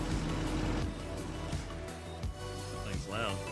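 A truck engine idles in Vertical Farming Simulator 25, a steady low rumble running throughout beneath a man's speech, with brief mechanical whines near the end.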